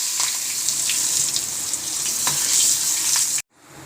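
Curry leaves sizzle and crackle in hot tempering oil with urad dal and asafoetida for a garlic chutney, a steady close frying hiss with small pops, cutting off abruptly near the end.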